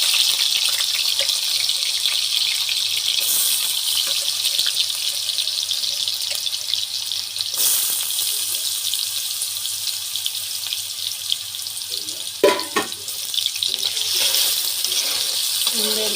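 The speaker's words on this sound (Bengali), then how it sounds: "তেল গরম হয়ে গেছে," Potatoes frying in hot oil, a steady broadband hiss running throughout at close range, with a couple of brief clatters near the end.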